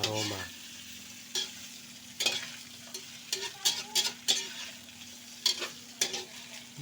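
Tofu and hotdog pieces stirred in a pan, a soft sizzle underneath repeated sharp scraping clacks of a utensil against the pan, close and irregular, no speech.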